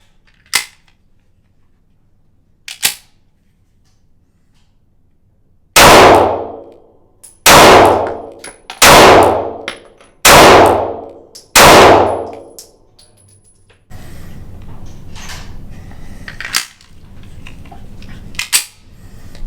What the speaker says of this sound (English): I'm gonna shoot at a clean target and see what happens.